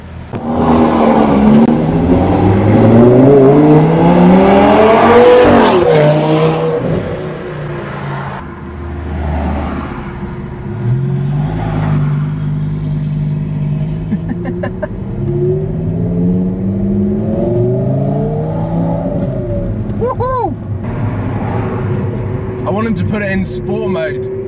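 A Lamborghini supercar fitted with an Armytrix exhaust roars loudly close by, revving hard through rising gear pulls with a pop, then continues at a lower drone before more revs, while people talk over it.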